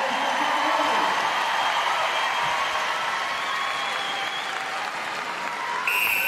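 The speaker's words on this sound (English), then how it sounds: "Huge cheer as this fourth quarter gets underway." Loud, sustained crowd cheering and applause fills a netball arena at an Australia v New Zealand match as the fourth quarter begins, a steady roar throughout with faint commentary underneath.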